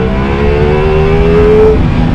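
Ducati Multistrada V4S motorcycle engine pulling hard in third gear, a loud, close, continuous roar with a rising whine that climbs steadily and then drops off near the end.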